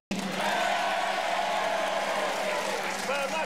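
A television studio audience at an AFL football show cheers and whoops loudly in a sustained roar, voting for option two, with the crowd noise steady throughout and a presenter's voice mixed in.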